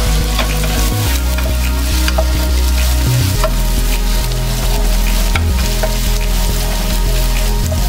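Spring onions stir-fried with other ingredients in a hot pan sizzle loudly and continuously, with spatula scrapes and clanks at intervals, close up and without speech.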